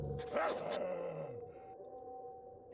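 A dog growls and snarls in the video game A Lost Man, a low rumbling growl that swells with a sharp bark-like burst early on, then trails into quieter rumbling, close and alone.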